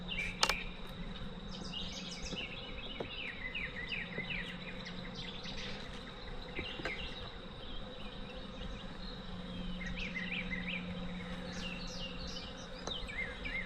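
Honeybees buzzing steadily around an open hive outdoors, a continuous close drone with individual bees passing near, faint bird calls behind, and no voices.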